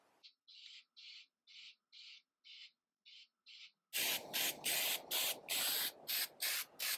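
Rust-Oleum primer sprayed from an aerosol can in a series of short hissing bursts, close and clear, then a louder, steadier run of longer spray blasts with only brief pauses between them.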